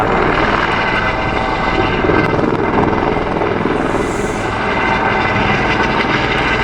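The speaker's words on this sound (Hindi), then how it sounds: "ये देखो ये हेलीकॉप्टर आ रहा, चॉपर आ रहा, देखो लैंड कर रहा है।" A helicopter comes in to land at the Vaishno Devi helipad in the Katra hills, its steady, dense rotor thrum loud and close throughout, with no talk over it.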